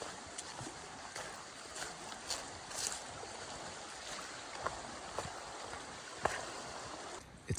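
A river rushing steadily at a ford in Maine's 100-mile wilderness, broad and continuous with faint splashes and footsteps through the water nearby, no voices.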